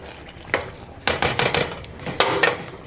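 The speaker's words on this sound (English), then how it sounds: "Scrape the side of my pan, my pot." A utensil scrapes the side of a Dutch oven holding beef stew, giving several quick, close scraping strokes and clinks in an uneven rhythm, heard alone.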